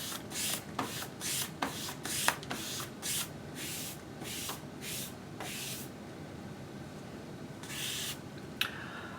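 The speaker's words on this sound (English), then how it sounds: "We're now going to lay our film over the tape. And we're going to squeegee that down." A squeegee is pushed over vinyl wrap film laid on knifeless tape on a vehicle, producing soft, repeated swishing strokes in an uneven rhythm, close but quiet, with a few faint taps and no speech.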